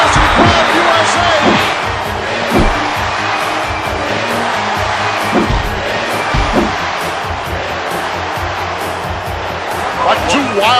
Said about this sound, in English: Chant going out for this capacity crowd